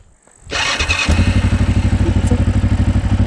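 A motorcycle engine cranks and catches, then settles into a loud, steady rhythmic idle with regular firing pulses close by, no talk over it.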